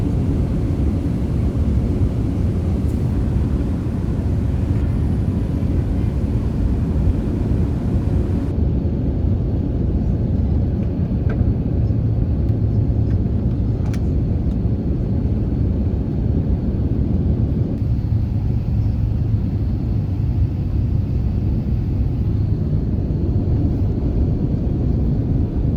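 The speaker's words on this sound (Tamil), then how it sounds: "லேண்ட் ஆகிறோம்." Emirates Airbus A350 airliner touching down at Dubai, heard from inside the cabin as a steady, loud low roar of engines and airflow rumbling throughout with no talk.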